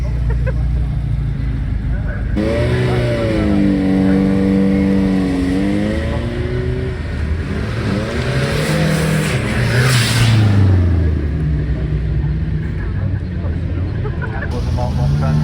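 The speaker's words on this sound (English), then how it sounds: "VR6 powered land crab" A VR6-engined Austin Land Crab revs loudly and close at an outdoor car meet, its engine note rising and falling in drawn-out sweeps beneath steady talk from people nearby.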